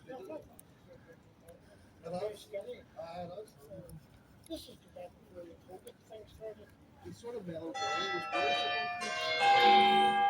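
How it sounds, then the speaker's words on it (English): People talk quietly, then a bell rings out loudly near the end, its bright, sustained tones overlapping and ringing on. "There's the bell."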